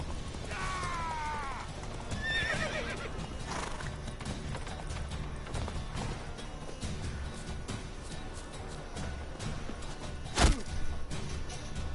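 Horses whinny twice over a busy soundscape from The Witcher video game, with clopping hooves and clashing noises, and a sharp crack near the end.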